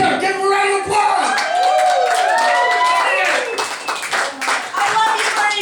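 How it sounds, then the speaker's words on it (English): An audience applauds a comedian as he is brought on stage, with sustained clapping mixed with whoops and loud voices, the crowd noise thinning near the end. "Give him a round of applause."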